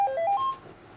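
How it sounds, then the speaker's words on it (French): A hospital telephone gives a short run of bright electronic beeps about a call from the operating room, several quick tones in a row that fade into quiet room tone, with no talking. "Il va recevoir un coup de fil du bloc."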